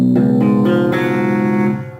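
Electric guitar picks a bridge riff, several notes in a short ascending run that ring and fade out, with an effects-laden, slightly chorused tone, close and alone.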